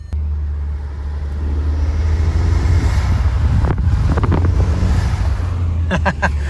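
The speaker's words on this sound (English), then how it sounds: "Hopefully you guys can hear those turbo noises" A Volkswagen GTI 337 with its hood shut pulls away and drives, a loud steady low engine drone with wind rush over it and brief whistly turbo bursts in the last few seconds.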